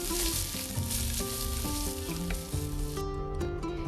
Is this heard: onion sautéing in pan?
yes